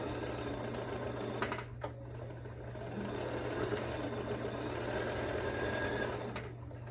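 A sewing machine stitches lining and cowl fabric for a tailored dress, running as a steady close mechanical whir with a low hum throughout and a few faint clicks as pins are pulled away.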